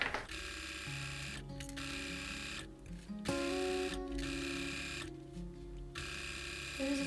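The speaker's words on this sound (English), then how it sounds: "We're just going to sew around the edge of the bias tape, and then that's our hem complete." A sewing machine stitching around a bias tape hem runs with a steady mechanical whir and buzzing hum, broken by short stops and restarts, close and continuous throughout.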